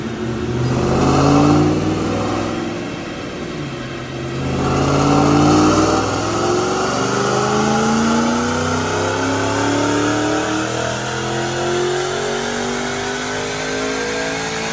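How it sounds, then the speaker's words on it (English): Supercharged 2007 Mustang GT with Edelbrock supercharger, long-tube headers and cams, revving hard on a chassis dyno, loud sustained engine roar climbing in pitch through the pull, with a brief dip and rise early before a steady high-rpm drone. "Check out this dyno pull."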